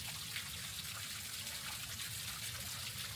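Water rushes and gushes through a canal breach, pouring like a waterfall as a steady broadband roar with no break.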